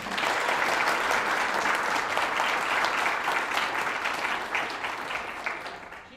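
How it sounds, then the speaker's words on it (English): Steady applause from a sizable audience, many hands clapping together at an even level, tapering slightly at the close. "Let's give a round of applause."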